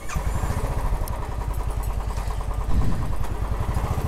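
A Royal Enfield BS6 motorcycle engine runs steadily at idle, its rapid low putter close by, rising briefly as the throttle is blipped.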